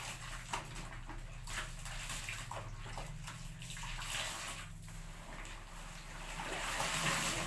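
Tap water running steadily while cooking pots are washed, a faint continuous trickle and splash with soft clinks and bumps throughout.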